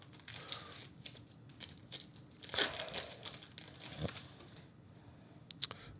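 Foil Magic: The Gathering set booster pack from The Lost Caverns of Ixalan being torn open and handled, crisp crinkling and tearing bursts in a quiet room, with a louder rip midway and sharp crackles near the end.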